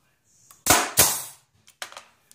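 A toy catapult is loaded and fired, giving two sharp, loud snapping clacks close together, followed by a few softer knocks and a faint tap as the projectile lands.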